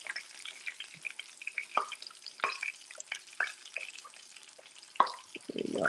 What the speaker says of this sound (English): we're gonna let that fry right up